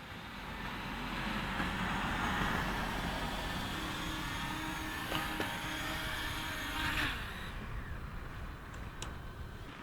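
A CFly Mini 2 drone returns home and descends to land outdoors near a parked car, its steady propeller whine droning continuously at moderate distance before fading somewhat near the end.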